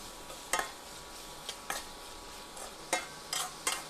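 Thinly sliced onions with salt fry in a vessel, a faint soft sizzle broken by about eight sharp scrapes of a stirring spoon at irregular intervals, with no voices.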